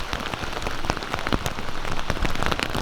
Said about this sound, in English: Caught in a downpour.